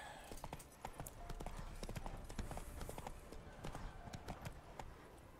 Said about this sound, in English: The horse is back.